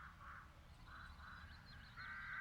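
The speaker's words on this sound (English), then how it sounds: "Something's wrong with those crows." Crows caw several times in The Dark Eye: Chains of Satinav, hoarse repeated calls rising to a louder caw at the end over a faint ambient background.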